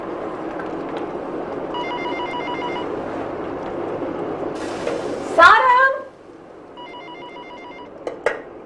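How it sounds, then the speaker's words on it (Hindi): A telephone rings in a home in an Indian drama, repeated ring bursts under background music, with a louder clatter midway and quieter rings afterward. "ईमान, ईमान प्लीज जरा फोन देखना"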